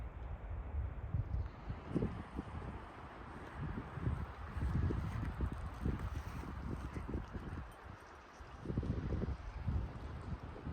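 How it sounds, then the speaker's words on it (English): Gusty wind at a lake in the Lakes Basin Recreation Area near Graeagle, California, buffets the microphone in uneven rumbling bursts, loud and close, rising and easing throughout. "It's been pretty windy here."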